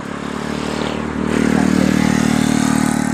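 A motorcycle passes along the Uthaphao canal, its engine drone growing louder midway and holding a steady close rumble with a faint clatter, no voices heard.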